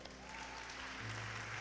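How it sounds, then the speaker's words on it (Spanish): A church congregation applauds in a brief, dense, steady burst of clapping that fills the room, with no speech over it. "vamos a darle un aplauso al Señor"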